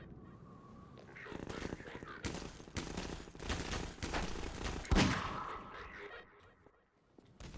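Rapid bursts of gunfire in the Half-Life 2 game, dense repeated shots running for several seconds at moderate loudness with a heavy blast near the end before fading.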